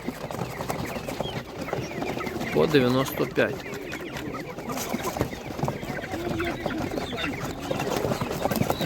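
Chickens cluck at a livestock market in Ivano-Frankivsk oblast, Ukraine, several birds calling near and off and on beneath steady talk from traders and buyers.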